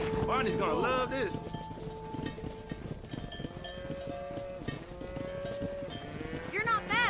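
A cattle herd being driven across a ranch in Red Dead Redemption lows and bleats amid hoofbeats, with several overlapping animal calls near and far under voices talking.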